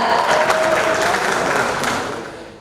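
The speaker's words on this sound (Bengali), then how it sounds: "তাদের জন্য জোরে একটি করতালি হয়ে যাক।" Audience applause fills a hall at a corporate partner-meet gala night, a dense burst of clapping that holds steady and then fades out.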